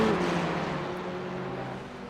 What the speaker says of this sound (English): we do hear one of the cars a little bit slow